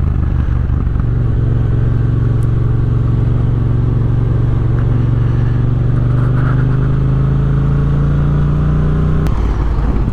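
Yamaha MT-07 motorbike ridden on the road, heard as a loud, steady low engine drone with wind rumble, close and constant, the pitch slowly rising then dropping near the end.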